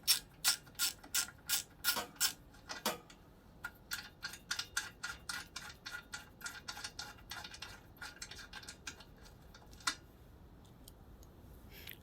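A ratchet turns a bolt on the carburetor of a Giant Vac leaf blower, sharp rapid clicking in bursts and runs, close and loud at first, then lighter, quicker clicks with short pauses.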